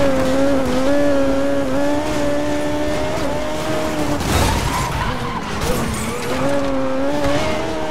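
A race car on racing tyres in the video game Need for Speed Most Wanted, engine droning loud and close with rising and falling revs, a tyre-squeal burst midway, then the engine pulling again.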